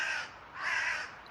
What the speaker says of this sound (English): Crows. They want to feast on my carcass.